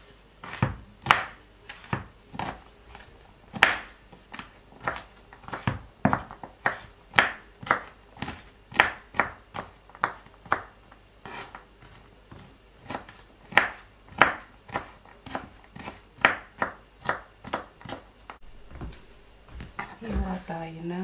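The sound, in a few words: chopping garlic with a small knife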